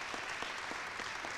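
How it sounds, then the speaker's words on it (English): An audience at a school board student recognition awards ceremony gives a short, steady round of applause, moderately faint and slightly distant, lasting just over a second. "Please join me in giving him a round of applause for this recognition."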